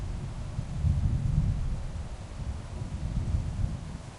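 A thunderstorm in The Walking Dead video game brings a low, steady rumble of thunder mixed with wind and rain, swelling briefly in the middle and staying moderately loud without any talking.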